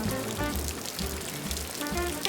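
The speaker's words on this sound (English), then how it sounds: "I could hear nothing over the pitter-patter of the raindrops on her roof." Rain patters steadily on a roof, a dense, even hiss of drops heard close with no voices.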